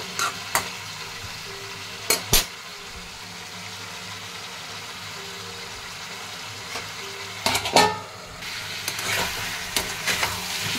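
Meat fries in a pan for a steady stretch, with salt being added partway, a low continuous sizzle broken by a few sharp clicks and scrapes of stirring near the start and again around the middle.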